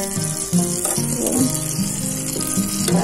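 An instant burger patty frying in a pan until browned, with a steady close sizzle and occasional soft stirring or scraping clicks over the three seconds, no voices.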